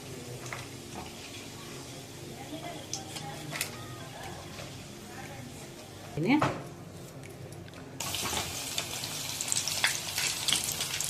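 Flattened rice (avalakki) frying in a pan for a snack, a steady broadband sizzle with occasional stirring scrapes and a brief louder clatter midway, the sizzle growing brighter toward the end.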